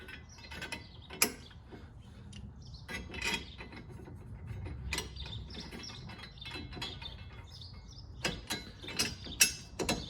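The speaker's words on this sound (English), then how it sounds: "Now we'll drop all the carriage bolts in." Carriage bolts dropped into the holes of a Hollywood Racks Sports Rider e-bike rack: scattered metallic clicks and clinks, some sharp and close, with rattling and creaking handling noises between them and no speech.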